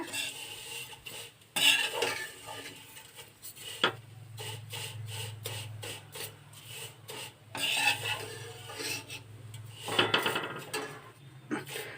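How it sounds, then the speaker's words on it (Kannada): Vermicelli roasts in ghee with cloves for a sweet dum semiya while a metal spoon stirs and scrapes the pan in uneven bursts, with clinks and rasping strokes over a faint low sizzle. "ಶಾವಿಗೆ ಹಾಕೋಬಿಟ್ಟು ನೀವು ಈ ಥರ ಫ್ರೈ ಮಾಡಿಕೊಡಿ"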